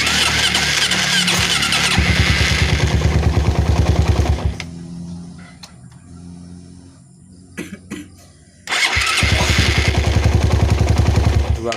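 A Suzuki Satria FU 150 motorcycle cranked on its electric starter, loud and close, with two long whirring bursts separated by a quieter pause.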